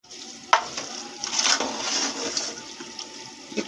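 A spoon stirs carrot halwa in a pan, giving continuous scraping and soft sizzling with a few sharper clinks, fairly close and steady throughout.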